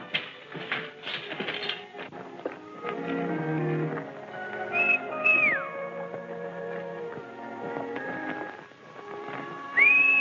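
Two rising then falling whistled calls near 2 kHz stand out over a film soundtrack of music and hoofbeat-like clatter in a Western setting, one midway and another at the end, fairly clear and prominent.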